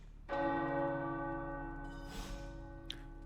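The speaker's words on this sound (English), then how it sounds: "The tower bells are ringing." Tower bells ring in Marvel's Midnight Suns with one loud, resonant strike whose layered overtones hang and slowly decay, with a softer shimmer near the end.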